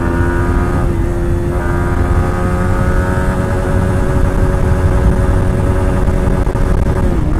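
A Yamaha MT15 motorcycle accelerates hard through the gears. Its loud, close engine drone climbs steadily in pitch, with short dips at the gear changes and no talk.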